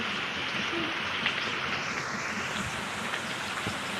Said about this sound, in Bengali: বাইরে কি পড়ছে বৃষ্টি